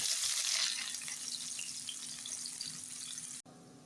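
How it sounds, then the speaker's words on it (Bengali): Onions frying in oil in a pan give a steady bright sizzle that runs almost unbroken at moderate loudness, then drops to a quieter hiss near the end. "বন্ধুরা, আমি এখন পেঁয়াজগুলো ভাজা করে নেব।"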